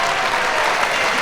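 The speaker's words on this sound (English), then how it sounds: "Give yourselves a burst of applause for that." Live comedy-show audience bursting into applause in a London cabaret venue, a loud, dense and even crowd clapping filling the whole brief moment without a break.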